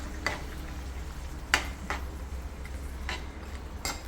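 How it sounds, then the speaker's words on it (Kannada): A spoon stirs a tamarind and turmeric mixture for gojju in a pan, giving a few scattered scrapes and taps over a low, steady background hum. "ಒಂದು ಸರ್ತಿ ಇದೆಲ್ಲ ಮಿಕ್ಸ್ ಮಾಡ್ಕೊಳ್ಳೋಣ"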